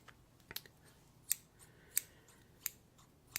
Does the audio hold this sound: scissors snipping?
yes